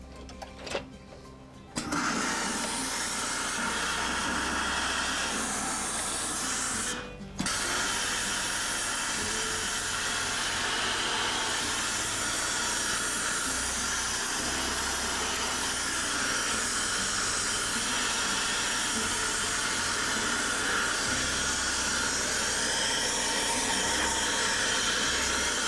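A hat blocking machine steams a hat brim with a steady, loud broadband hiss and mechanical whir that runs nearly continuously, broken by a brief dip early on.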